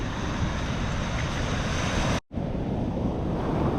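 Ocean surf rolls and breaks steadily on a beach in a big swell, a continuous close roar mixed with wind buffeting the microphone, cut by a brief dropout of near silence midway.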